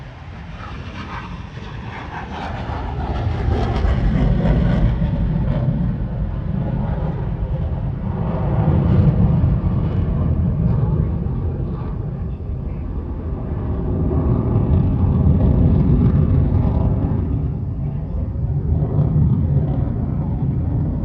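An F-16 Fighting Falcon (Viper) fighter jet makes a low approach at the Thunder Over Michigan air show, a loud continuous engine roar that swells and fades in broad rumbling waves.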